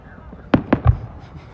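Fourth of July fireworks at a Fernley, Nevada celebration pop in three quick sharp bangs, followed by a short low thump, fairly close and loud against a quiet background.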